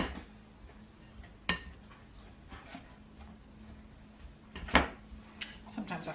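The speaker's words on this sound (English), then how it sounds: "we are going to cut these in till it's fairly fine" Knives scrape and clink against a pan while communion bread ingredients are cut in, giving faint scraping under quiet talk, punctuated by two sharp metallic knocks.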